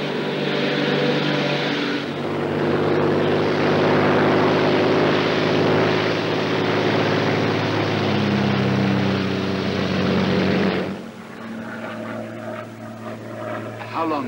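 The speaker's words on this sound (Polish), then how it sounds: "Samolot Królewskich Sił Powietrznych czeka na nas na tajnym lotnisku." A Royal Air Force propeller plane drones steadily in flight, a loud sustained engine hum with harmonic layers that holds throughout, then drops in level near the end as voices begin speaking over it.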